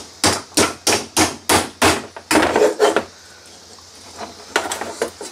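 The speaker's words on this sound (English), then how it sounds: "So I need something to knock this screw out now. A hammer? Yes, a hammer will be good." A hammer strikes a screw to drive it out, landing about seven sharp, evenly spaced blows, followed by a few duller knocks and light handling clatter.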